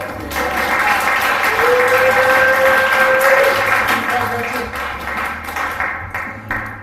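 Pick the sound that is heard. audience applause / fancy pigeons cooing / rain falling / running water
audience applause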